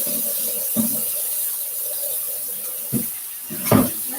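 Cold tap water runs steadily into a kitchen sink while cooked pasta is drained, a continuous near splashing rush with a few louder clunks and splashes and no talking.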